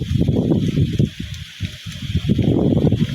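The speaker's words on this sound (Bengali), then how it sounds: "আল্লাহ, অনেক জোরে বাতাস দিতেছে" Strong gusts of wind during light rain at a rural home, a dense roaring rush that swells and dips with the gusts, loud and close, with no talking.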